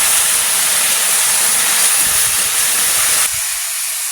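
Hot water poured into a pan of simmering pond-fish curry with taro, a loud steady hissing sizzle and steam that drops off sharply near the end.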